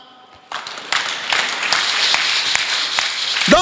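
A church congregation at a Sunday service bursts into applause after a short quiet lead-in, a dense wash of clapping that swells and holds steady to the end.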